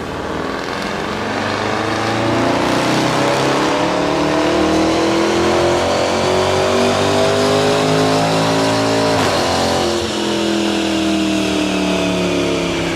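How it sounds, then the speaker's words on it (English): A supercharged V8 Land Rover Defender engine runs on a dyno, revving loudly in a long sustained pull with rising harmonic tones, briefly dipping before climbing again. "we're going to listen to what the vehicle does now, see the numbers on the dyno"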